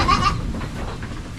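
A goat bleats twice in short quick calls at the start, close by, over a steady noisy outdoor background on a Philippine farm.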